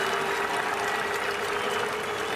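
A crowd on a hillside at a Supercars race applauds a passing driver, a steady wash of distant clapping and crowd noise without a break.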